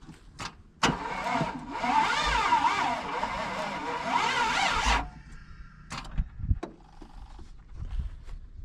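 A truck engine revs hard for about four seconds, straining and loading down under the rotating assembly, then drops off into quieter idle with scattered clunks and shuffling nearby.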